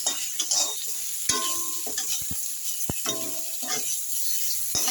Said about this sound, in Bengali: এবার আমি এই বেগুনগুলো ফোড়নের সঙ্গে মিশিয়ে নিই